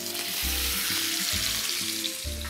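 Meat sears in a hot frying pan with vegetable oil, giving a loud, steady close sizzle that crackles continuously throughout, with no talk.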